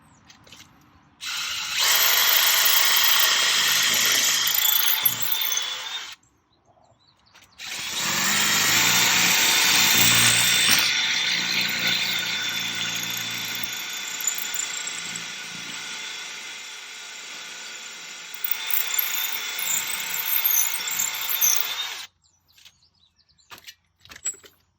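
A power drill drives a screw into the ground to mount a VINGLI 16 ft pool cover reel, two long whirring bursts with ratcheting, the first about five seconds, the second longer and tapering, with short pauses between.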